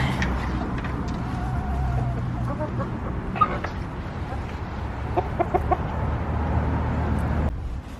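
Hens in a coop cluck and murmur in scattered bursts through a steady low background rumble, close by with no talking.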